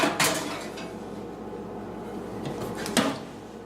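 A squash casserole dish goes into the oven: a clunk of the dish or oven door at the start, a low rumbling shuffle, then a second sharper knock near the end, all close by with no talking.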